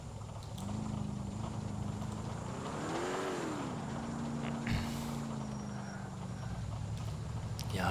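Car engine from the GTA IV game world, a steady mid-pitched drone with a rising and falling rev around the middle, heard continuously alongside ambient street noise and a brief knock, no talk.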